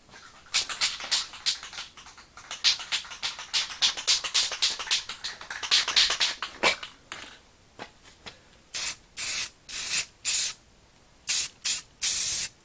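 An aerosol spray paint can hisses onto a 1/64 diecast car in a rapid series of short, uneven bursts, then settles into several longer, evenly spaced sprays, close and fairly loud.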